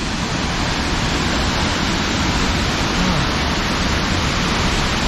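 A powerful mountain waterfall in the Dolomites throwing up mist, heard as a steady, loud broadband roar of rushing water that stays constant throughout with no voices.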